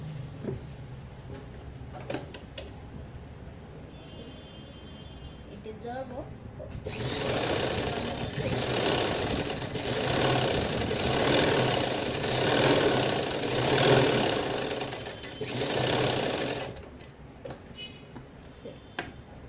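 A sewing machine stitches a party-wear gown, running in a steady loud burst for about ten seconds with a slight pulsing rhythm, preceded and followed by quieter handling sounds and light background noise.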